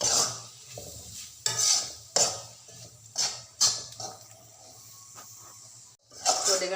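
A spoon stirs spice powders, including turmeric, in a frying pan. The scraping strokes come in an uneven rhythm over a soft sizzle, with a faint low hum in the background.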